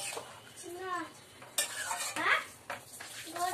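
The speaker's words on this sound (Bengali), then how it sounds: "এবার আমি বড়াগুলো দিয়ে দেবো" Egg fritters (dimer bora) go into a simmering curry with boiled potatoes, with a few close clinks and scrapes of a spoon against the pot over a soft bubbling bed, and no talking.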